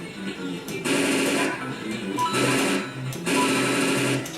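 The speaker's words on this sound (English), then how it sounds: "Gotta go to my assault rifle." Rapid assault rifle fire in a Super Mario World hack, heard as three fast, rattling bursts of closely spaced shots, loud and dense, with brief gaps between bursts.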